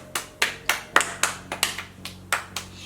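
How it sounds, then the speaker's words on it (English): A single person claps hands about ten times at a steady, slightly uneven pace, each clap sharp and close, with a quiet room hum beneath and no talk. "Give it a clap. Give it a clap."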